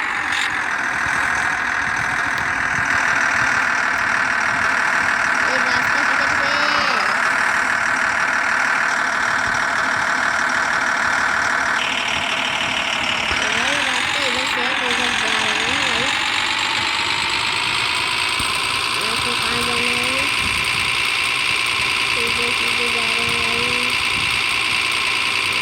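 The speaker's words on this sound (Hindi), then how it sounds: "तो गाड़ी स्टार्ट करते हैं" A modified Swaraj tractor engine starts and settles into a loud, steady diesel idle, its pitch wavering as the revs shift slightly, heard close for about twenty-five seconds without speech.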